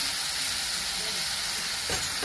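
Soaked chickpeas hitting hot oil in a pan with cooked-down tomato, giving a steady, close, loud sizzle and hiss that holds throughout, with a couple of faint clinks near the end.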